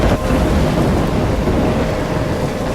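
Stormy weather in the video game Life is Strange, with a steady broadband roar of wind and rain and low rumbling thunder running loud and continuous throughout.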